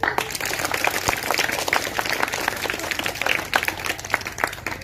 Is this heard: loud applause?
yes